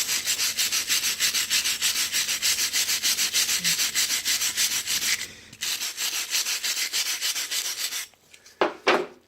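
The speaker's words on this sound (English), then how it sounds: "Let's scrub the other side here." Salt scrubbed against a pan in steady, rapid back-and-forth rubbing strokes, loud and close, pausing briefly before resuming and ending with a few scattered knocks.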